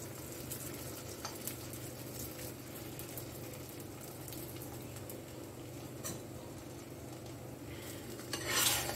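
A thick sweet potato paratha goes into a wok of oil, with faint sizzling and soft scraping and clinking of utensils against the pan, close but quiet, with a brief louder clatter near the end.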